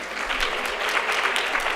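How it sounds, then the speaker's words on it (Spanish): An audience at a neuro-healthy recipe contest award ceremony applauds, a steady, close wash of many hands clapping together without pause. "Vamos. Un aplauso."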